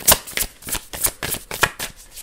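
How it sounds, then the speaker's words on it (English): Tarot cards being shuffled by hand off to one side, a run of about eight quick riffling bursts in steady rhythm, close and crisp with no voices. "I'm shuffling off camera because I don't want to mess up this spread"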